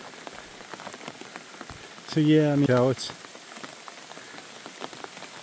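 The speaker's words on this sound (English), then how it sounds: "it's raining all right." Rain pattering on an umbrella in the Quehanna wilderness woods, a dense, steady patter of close drops that runs throughout, with someone briefly speaking over it midway.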